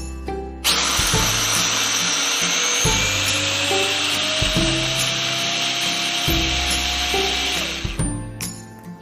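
Electric food chopper running at low speed on peanuts, a loud continuous whirring motor drone with a rattling grind, starting abruptly and stopping after several seconds.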